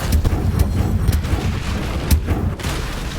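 The Incendio fire spell from Hogwarts Legacy goes off as a string of loud, booming whooshes and bursts, several heavy hits spaced irregularly over a rumbling bed.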